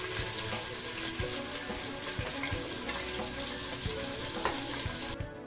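Chopped onions, about half a kilo, fry in refined oil with a steady close sizzle and crackle and no voices, cutting off abruptly near the end.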